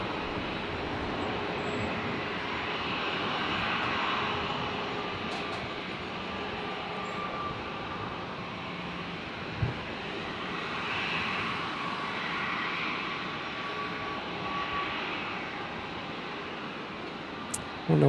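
An Air Canada airliner lands at Brisbane Airport with its landing gear down, a broad, sustained jet roar that stays fairly steady at a distance, with a couple of faint clicks near the end.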